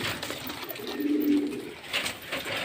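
Pigeons offered for sale coo in a low, soft burst near the middle. Quiet chatter and background noise from the sale setting run underneath.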